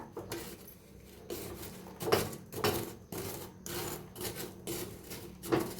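Freshly cooked boondi stirred by hand in a pot, giving soft irregular rubbing and scraping strokes with occasional light clinks, fairly quiet and close.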